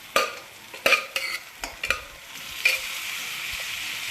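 Chicken sizzles in hot oil while a utensil stirs it, scraping knocks recurring irregularly over a steady frying hiss, close up and without talk.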